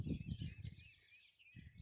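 Birds calling outdoors: several faint, high chirps and trilling notes in a quiet open setting, with soft low thumps underneath.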